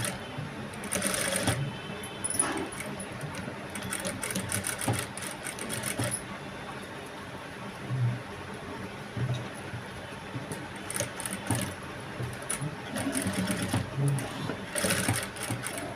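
A sewing machine stitching a blouse with piping runs in repeated bursts of rapid mechanical whirring, stopping and starting, with someone talking between and over the runs.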